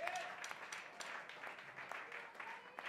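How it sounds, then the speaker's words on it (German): Audience applause at a rock concert, a faint, steady patter of clapping from a crowd heard at a distance throughout. "Das ist ein großer Applaus wert"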